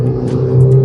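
A car on the Chennai–Tirupathi highway, driven by a learner, accelerates to overtake a tractor. Its engine drones low and steady and close by, swelling slightly toward the end of a short burst, with no talk over it.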